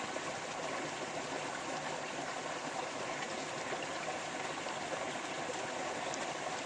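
Steady flowing stream in a forest, a continuous broadband rush of water that stays even and moderately close throughout, with no voices or other distinct sounds rising above it.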